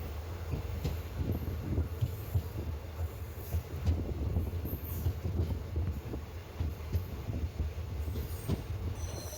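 A Kollam–Alappuzha passenger train pulls into Perinad station, its carriages rumbling steadily with wheels squealing on the rails throughout, close and continuous.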